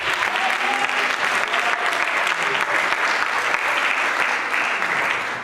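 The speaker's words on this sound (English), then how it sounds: "mighty hand clap of praise." A church congregation claps in praise, a dense, loud and sustained wave of hand clapping that fills the whole stretch with steady intensity before easing slightly at the end.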